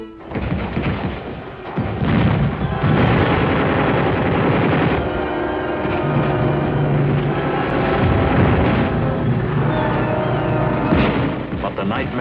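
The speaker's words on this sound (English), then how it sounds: "The enemy started shelling us at Santo Tomas." Artillery shelling during the 1945 Battle of Manila, a sustained loud rumble of booms and blasts with dense, continuous low-frequency roar throughout, heard in old war footage.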